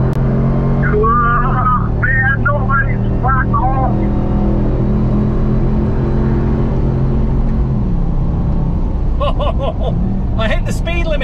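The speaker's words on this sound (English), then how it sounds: "do you actually know how fucking loud that car is?" A 702 hp Dodge RAM TRX pickup driven hard on the Nürburgring Nordschleife, its engine droning loud and steady, rising and dropping through shifts, with occasional voices inside the cab.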